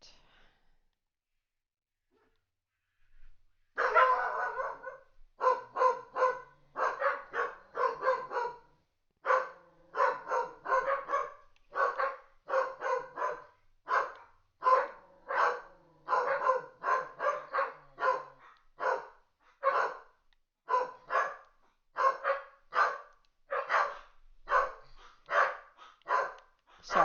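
Dogs bark outside in long runs of sharp, repeated barks at a steady pace, close and insistent, after a few seconds of near silence.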